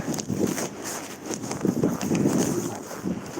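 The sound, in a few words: strong wind blowing on the phone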